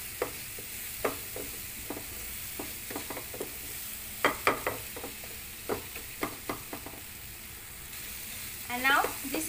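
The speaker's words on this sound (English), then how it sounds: "Mix well and saute for" Rajma masala sautéing in a pan, with a soft sizzle under scattered scrapes and taps of a spoon stirring, moderately quiet and close.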